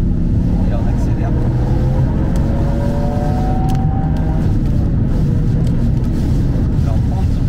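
Toyota Yaris GR Track Pack fitted with an Akrapovič exhaust accelerating on a race track, a dense, steady engine and exhaust roar heard from inside the car under constant road and wind rumble, with a driver talking over it.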